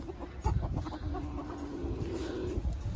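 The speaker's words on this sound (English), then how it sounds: "So let's look at the chickens." Chickens cluck and murmur in a farm pen, several birds calling in short bursts over a steady barnyard background with occasional louder squawks.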